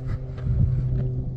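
Strong winter wind buffets the microphone in a Japanese park, a low roaring rumble with gusty swells, loud and close, no voices.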